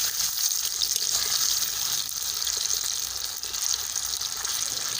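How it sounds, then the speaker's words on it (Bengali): Soya koftas frying in oil over medium heat, a steady, dense hiss and crackle that stays close and fairly loud without pause, with no voices over it. "বন্ধুরা কোপ্তাগুলো একদম মিডিয়াম আঁচেই ভেজে নিতে হবে"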